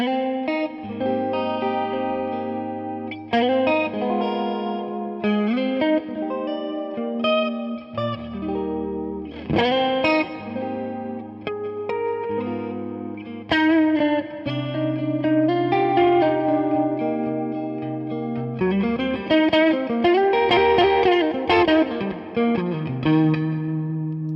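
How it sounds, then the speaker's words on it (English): Clean electric guitar run through a shimmering chorus effect, playing sustained chords and arpeggiated passages with a steady bass line beneath, continuous and fairly loud, with a slight reverb tail and no talking. "That chorus sounds really, really nice from clean parts."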